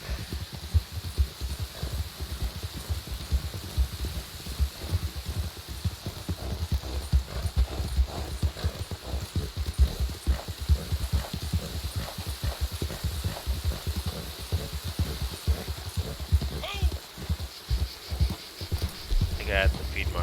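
Horse hooves clip-clopping in the video game Red Dead Online, a steady, continuous run of quick hoofbeats over a soft hiss of ambience, fairly close and constant, with a faint brief whinny-like sound near the end.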